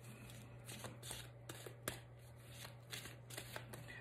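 Oracle cards being shuffled by hand for a tarot-style reading, giving soft, repeated riffling and flicking bursts over a steady low hum, close and quiet.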